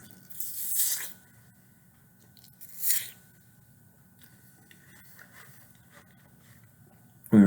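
An apple, spread with peanut butter, is bitten twice in crisp, close crunches about two seconds apart, followed by quiet chewing and faint mouth sounds before a sudden louder noise at the end.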